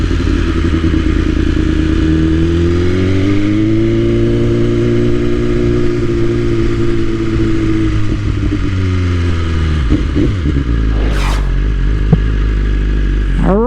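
A 2021 BMW S1000RR fitted with an Akrapovic Evolution exhaust runs close and loud under riding, its steady engine drone rising and falling with shifts before easing toward idle, with clattering near the end.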